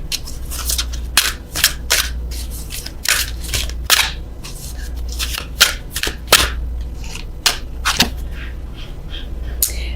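Tarot cards being shuffled, repeated crisp riffling and snapping bursts at irregular intervals over a low steady hum, close and fairly loud.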